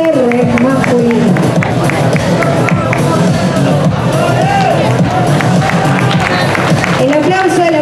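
Crowd of friends and family applauding and cheering at a sports awards ceremony for swimming and other nominees, a dense steady roar of clapping and shouts with voices mixed in throughout.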